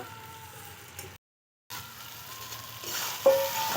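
Rohu fish head stir-fried with gobindobhog rice in a pan, a steady close sizzle with scraping stir sounds, broken by a short silent gap before the frying resumes louder.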